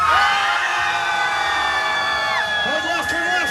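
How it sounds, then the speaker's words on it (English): High school seniors under hypnosis scream together on an imaginary roller coaster ride, a loud, sustained crowd of shrill overlapping shrieks and whoops close by, swelling with extra yells near the end. "The louder you scream, the faster that ride goes."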